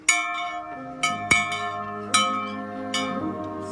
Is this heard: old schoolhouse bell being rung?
yes